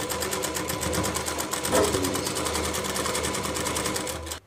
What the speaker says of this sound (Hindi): हमें ऐसे टाइट पकड़ना है और धीरे धीरे सिलाई करना है